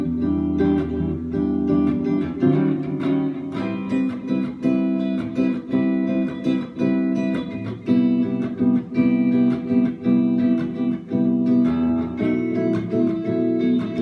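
Guitar playing a section of a song, a steady rhythmic passage of plucked chords and notes with a sliding bass line, played close and clearly for about fourteen seconds.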